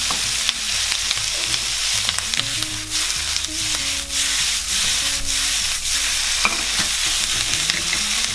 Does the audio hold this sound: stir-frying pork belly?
yes